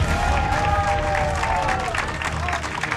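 Crowd at a StarCraft 2 WCS America tournament quarterfinal applauding, a dense continuous wash of clapping and cheering under a commentator's voice.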